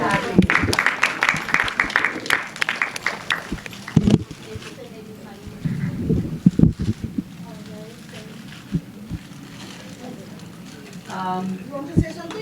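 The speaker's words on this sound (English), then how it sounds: "Big round of applause for Andy Sackley." Audience clapping at a film festival gathering in Boston, a burst of applause in the opening seconds and scattered claps later, mixed with a talking voice and room noise.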